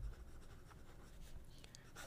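A PSP Lotus limited-edition fountain pen nib scratches steadily across paper in fast, continuous writing strokes, soft and close, with no one talking.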